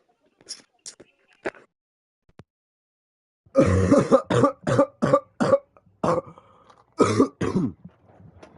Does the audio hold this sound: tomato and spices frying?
no